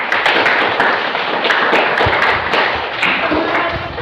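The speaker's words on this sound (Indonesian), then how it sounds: "Jadi kita beri dulu aplaus untuk kita semua." Class applause from schoolchildren at SMP Negeri 1 Telukdalam, a loud, sustained burst of many hands clapping with a few sharper taps standing out.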